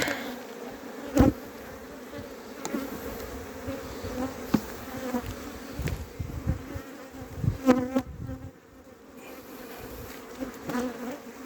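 Honey bees from a swarm buzz steadily and close throughout while being moved out of a swarm trap into a Premier hive, with occasional knocks and handling thumps but no speech.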